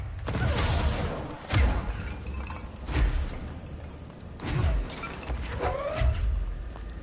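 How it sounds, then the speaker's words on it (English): Explosions and combat hits in the video game Control arrive as several heavy booming blasts at irregular intervals over a dense, noisy game mix, loud and close. "Big explosion."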